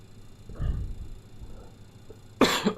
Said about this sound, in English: I'm sorry for the coughing.